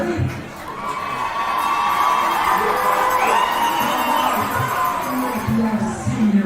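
Large crowd cheering and whooping at a high school varsity football homecoming game, a sustained loud roar of many voices with children's shouts and yells rising above it throughout.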